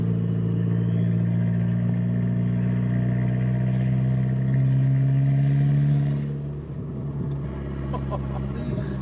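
Turbocharged 1.8T engine in a budget VW Passat B5 with a resonator and big exhaust pipe, revving loudly and steadily with a rising turbo whistle that climbs, then drops off as the revs fall.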